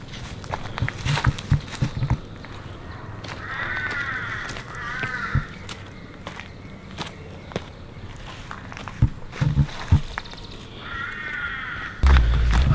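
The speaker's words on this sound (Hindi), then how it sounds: "पक्षियों की आवाज़ें आ रही हैं बड़ी अच्छी अच्छी।" Crows caw repeatedly with other birds calling on a mountain trek to Naina Peak near Nainital, distinct calls at moderate distance over soft footsteps and crunches, ending with a louder thump.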